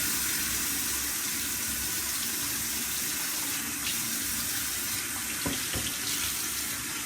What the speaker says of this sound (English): And then you leave the water running.